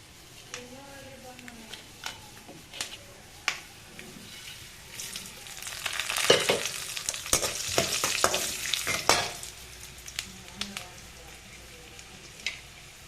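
A spoon stirs puliyogare mixture frying in a pan at moderate volume, with scraping strokes and a soft sizzle that swells in the middle and fades, and a few brief bits of talk.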